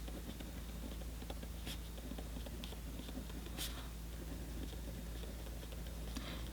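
A pen scratches steadily across dot grid paper in a B5 planner, a close, quiet scribble of strokes and small taps running continuously as letters are written out.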